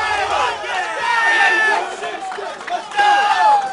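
Tournament crowd at a King of Fighters XIII grand final getting hyped, a dense roar of cheering and shouting voices that swells and surges loudly, with excited yells rising above it throughout.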